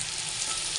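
Spices fry in hot oil in a pan, a loud, dense, continuous sizzle close by with no voices.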